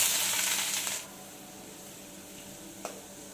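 Onions sizzling in a hot pan while being fried as the base for a homestyle fish fry, a loud hiss that drops off after about a second to a softer steady frying crackle, with one brief clink near the end.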